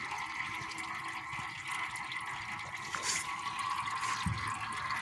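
Antifreeze trickles and splashes steadily into a container as it drains from a vintage Shelby Mustang, a thin continuous flow with occasional drips and a faint clunk, no one speaking.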